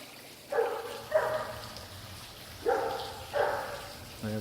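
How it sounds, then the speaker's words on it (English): Neighbours' dogs bark outside a home with a covered patio, four separate bursts of barking in pairs at moderate distance, with a low hum of background noise between them. "So we have a little bit of dog talking going on."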